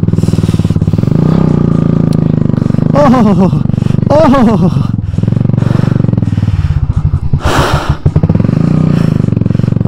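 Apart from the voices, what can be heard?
motorcycle riding on a rough mountain road near Mussoorie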